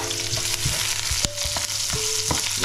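Onions and ginger fry in a pan with a steady broadband sizzle, while a utensil stirs them in several distinct scraping strokes that rise above the hiss, close and fairly loud, with no talking.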